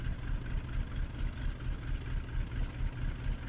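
A GE U30B diesel locomotive idles in the Railroader video game, a steady low rumbling drone with a faint pulsing throb, moderately quiet and unbroken with no voices.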